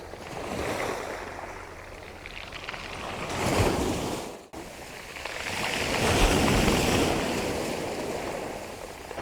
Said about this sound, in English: I thought I'd try and get a little bit of foreground interest with some waves washing around some of the bigger pebbles on the edge of the beach here